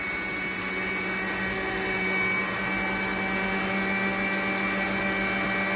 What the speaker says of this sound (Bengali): এখন জিরাগুলো ব্লেন্ড করে নিচ্ছি।